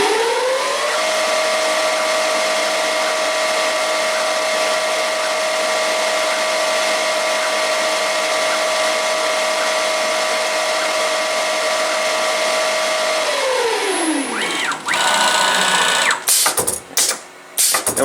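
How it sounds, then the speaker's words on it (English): A turret lathe cuts a thread with tool 4, a steady mechanical whine holding one tone for about thirteen seconds before winding down, followed by a few short clunks as the turret indexes. "So this is a threading operation here."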